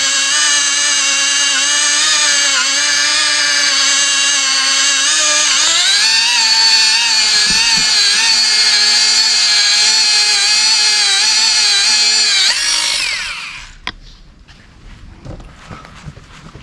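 A cheap electric car polisher whines steadily at low speed, then climbs to a higher, louder pitch, running for about thirteen seconds before spinning down and stopping, followed by faint handling noises.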